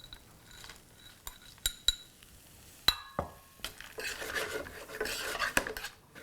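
Cashew nuts tipped into a very hot pan for a Kerala-style cashew and broccoli stir-fry, giving scattered clinks and taps against the metal, then a louder rattling, scraping burst as the nuts land and are stirred.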